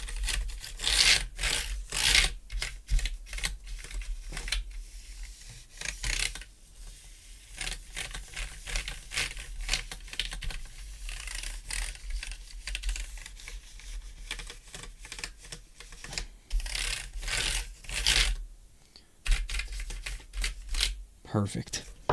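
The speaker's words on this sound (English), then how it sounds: "speaking of dusting, I need to unplug my keyboard and give this" Brisk brushing and rubbing across an unplugged computer keyboard while it gets dusted, scratchy bursts repeating close up in an uneven rhythm, with keys occasionally clattering.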